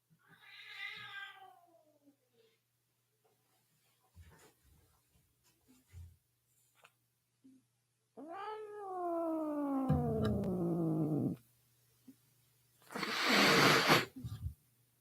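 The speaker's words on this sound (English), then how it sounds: "It's a cat." A pet cat meows and caterwauls indoors, a short meow early on, then a long drawn-out wailing yowl, with scattered rubbing and handling noises between and a noisy burst near the end.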